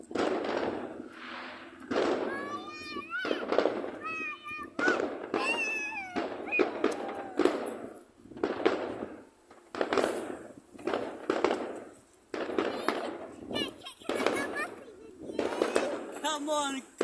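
Fireworks on Bonfire Night bang and crackle in repeated bursts over about seventeen seconds, fairly close, while people talk and cheer throughout.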